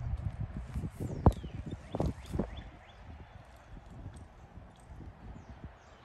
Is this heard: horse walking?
yes